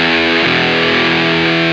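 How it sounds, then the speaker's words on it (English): An electric guitar runs through a Boss DS-1 distortion pedal with the gain set high, giving a loud, saturated chord that sustains for nearly two seconds with a thick, buzzing edge. "I've got the distortion up pretty high."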